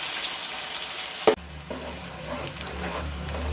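Chopped onions fry in hot oil for mutton nihari, a sudden loud sizzle as they hit the pan, then a quieter, steady crackling fry.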